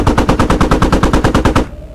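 Automatic rifle fire in the military shooter game Squad, a loud, close burst of about fifteen rapid evenly spaced shots that stops abruptly, leaving a short fading tail.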